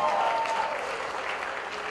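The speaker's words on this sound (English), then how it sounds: "Come on, huge round of applause." Audience applause for Krishna Patil, India's youngest Mount Everest climber, at a launch event, a steady wash of clapping from a crowd throughout, with a brief tone near the start and a voice faintly present.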